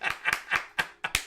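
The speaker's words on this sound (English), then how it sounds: "I clap my hands." Six sharp hand claps in a quick, slightly uneven rhythm, close and clear with no other sound.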